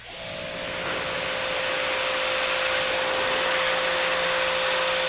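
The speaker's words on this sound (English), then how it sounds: "Now I'm going to get the mud off the bike before it gets dry." A steady loud hiss of a pressure washer spraying mud off a Talaria Sting R MX4 electric dirt bike, continuous and close with a constant tonal whine underneath.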